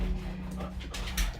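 A dog whimpers and pants close by in a quiet room, soft breathy sounds repeating through a steady low hum, with a sharper yelp-like burst at the very end.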